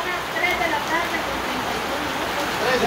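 Steady rain falling in the afternoon, a soft continuous hiss of drops on surfaces, fairly faint and even with no breaks.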